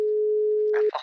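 A phone line drops into a steady, loud busy tone after the other party hangs up, holding alone for most of a second before cutting off into a short burst of noise.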